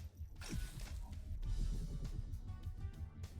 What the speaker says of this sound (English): Once we're aligned and up against the cube is welded to the chassis.